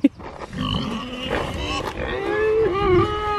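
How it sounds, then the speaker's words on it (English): A donkey on an animal farm starts braying, a drawn-out, wavering call that rises and falls close by, opening with a sharp knock and heard alone over faint farmyard background. "Oh, donkey's starting."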